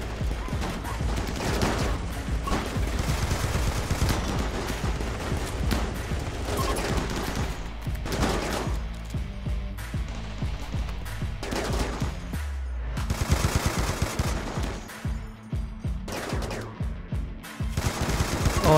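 Rapid automatic gunfire from a Warhammer 40k Krieg squad battle in RimWorld, long bursts and volleys of shots rattling continuously and loudly, with brief gaps between barrages.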